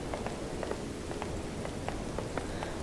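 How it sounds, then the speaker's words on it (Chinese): Heavy rain in the horror video game Detention (返校): a steady, dense wash of downpour fills the whole stretch, with faint scattered drips or taps rising above it, and no voices. "雨好大。"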